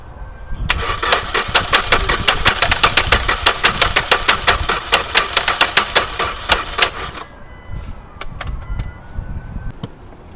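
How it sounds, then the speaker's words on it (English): A damaged Hyundai car engine cranks with a rapid, rattling clatter for several seconds, then catches and runs with an uneven, knocking rhythm, loud and close. "From the noise, I think this engine is a toast"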